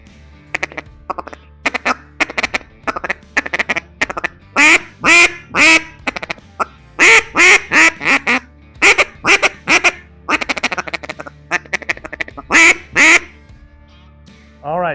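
A double reed duck call is blown up close in bursts of loud, raspy quacks, first a few scattered calls, then rapid rhythmic runs of quacks and a final lone call.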